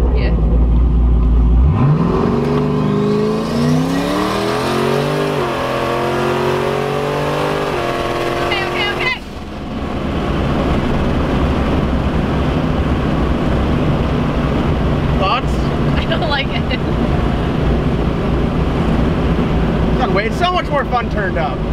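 A 1000-horsepower turbocharged Camaro launches from a stop with a loud roaring engine rising in pitch through a hard pull, then settles into a sustained high-speed drone; voices are heard under the noise.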